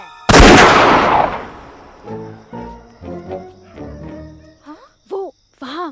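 A single loud gunshot-like blast rings out, followed by short bursts of shouting voices and a couple of brief rising animal-like calls near the end.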